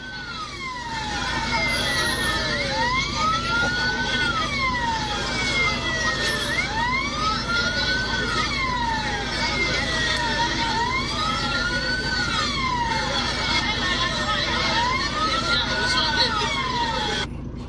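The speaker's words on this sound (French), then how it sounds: "Les policiers, les pompiers sont arrivés." Police and fire engine sirens wail in repeated rising and falling sweeps as emergency vehicles arrive, loud and sustained over a constant engine and street rumble.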